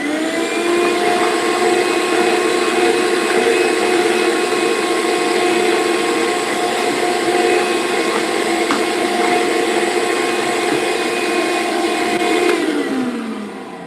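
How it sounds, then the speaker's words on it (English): A vacuum cleaner runs steadily and loud for about fourteen seconds during a sanding session on a vintage chair, its constant whine and hum holding level before it powers down at the end. "Vacuum again."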